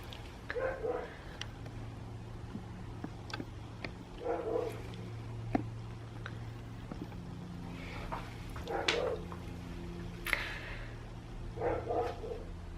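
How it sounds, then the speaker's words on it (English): A neighbor's dog barks in the distance in four separate bursts spaced a few seconds apart, faint over a steady low background hum, with no talk. "that's a dog barking right there"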